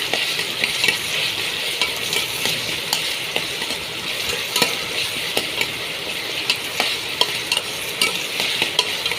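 Sautéing in a pan for a Mangalore-style prawn and dry fish curry: a steady close sizzle broken by frequent sharp clicks and scrapes of a utensil against the pan, with no voices.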